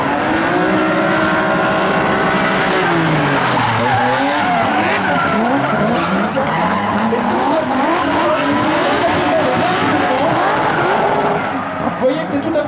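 Rally cars drift in a synchronized drift show at the Rallye de Wallonie, engines revving hard and tires squealing in long sweeping skids, loud and continuous with a commentator talking over it.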